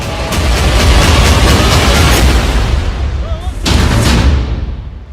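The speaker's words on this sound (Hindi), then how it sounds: "डबल धमाका" A double blast from the Israel–Hamas war in Gaza: dense, loud rumbling booms fill the stretch, easing briefly before a second heavy surge of explosive roar, with no voices.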